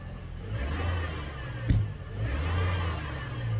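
An original Chevrolet Trailblazer with a long-standing ticking problem revs its engine, a moderate steady drone that rises in pitch with a brief sharp knock midway, then settles back to a sustained hum, heard alone without talk.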